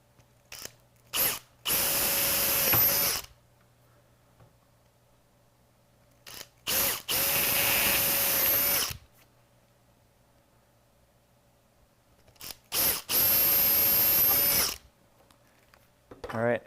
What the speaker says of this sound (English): start drilling them.